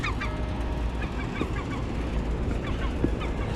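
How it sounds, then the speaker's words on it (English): Seagull on a rooftop calling repeatedly, harsh honking cries over a constant loud mechanical hum, close by and fairly rapid. "That little seagull is in the corner"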